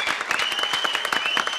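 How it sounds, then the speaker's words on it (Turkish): Studio audience applause greeting a magician's entrance in a Turkish comedy show, dense, fast clapping with a bright tone running continuously under a faint sustained tone. "Alkış!"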